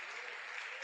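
A church congregation applauding, a brief dense wash of clapping heard at moderate distance without pauses.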